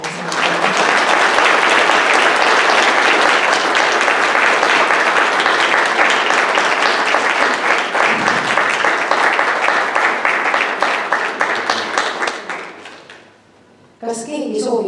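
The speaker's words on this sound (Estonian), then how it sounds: "Teen aplausi, Arhanna Santa" Applause at a horticultural school graduation ceremony, a loud sustained crowd clapping that fades out near the end before a voice briefly starts.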